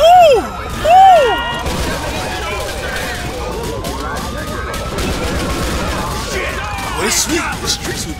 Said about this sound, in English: Oh, that was a shootout.